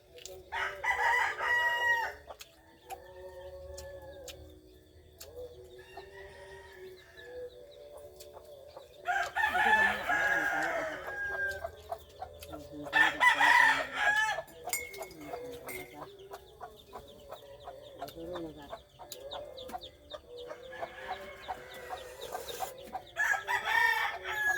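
Backyard chickens cluck and crow in bursts over about twenty-five seconds, with a rooster and a hen with five chicks penned close by, the calls moderately loud against a quiet outdoor background.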